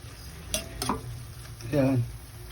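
Chilies and shrimp paste (bagoong alamang) being sautéed in oil, a soft sizzle under a few sharp spatula scrapes and clinks against the pan, with a brief murmur of voice.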